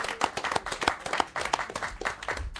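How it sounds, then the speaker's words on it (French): Applause in a radio studio during an Algerian evening magazine show: steady clapping from several hands close by, with sharp individual claps over a dense background for the whole stretch. "Un tonnerre d'applaudissements pour Imen Zian."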